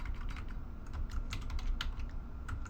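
Steady typing on a computer keyboard during a database query tutorial, a continuous run of close, crisp key clicks with no talking.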